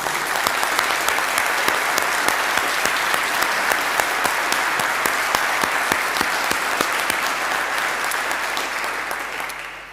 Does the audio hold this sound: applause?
yes